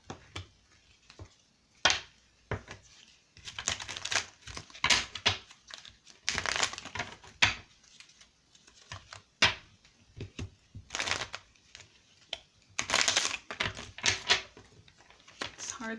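Small tarot-style reading cards are shuffled and riffled in repeated bursts of crisp flicking and crinkling, close up, with brief pauses between handfuls.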